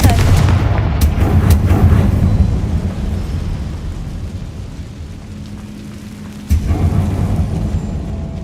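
Confringo fire blast spell cast in the video game Hogwarts Legacy, a loud booming blast that rumbles and fades, followed by a second sharp burst near the end.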